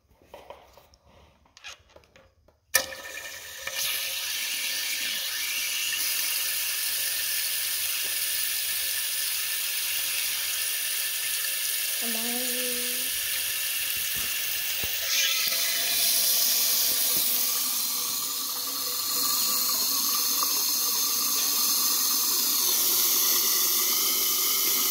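Water pours steadily into a Nissan 350Z intake manifold, a continuous hissing, splashing rush that starts abruptly after a few quiet knocks and runs on, growing slightly fuller and brighter toward the end.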